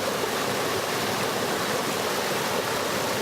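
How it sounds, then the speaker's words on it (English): A small waterfall pours in a constant, even rush of falling water, dense and close, with no pauses and no voices. "here we're just set up a little waterfall"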